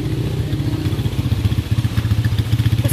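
A motorcycle near a dam, its engine close and steady with a rhythmic, throbbing low putter like idling or slow rolling, sounding clearly without any talk.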